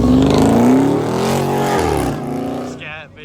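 A Ford Raptor pickup's engine revs hard at a car show, a loud, close, sustained roar that swells then drops away near the end, with people talking over it.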